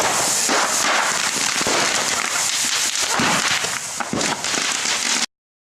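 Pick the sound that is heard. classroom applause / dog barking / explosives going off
explosives going off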